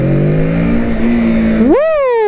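Motorcycle engine held at a steady loud drone during a wheelie, then sharply revving up and easing back down with a rising, falling whine near the end.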